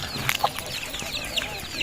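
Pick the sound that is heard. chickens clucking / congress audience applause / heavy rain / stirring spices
chickens clucking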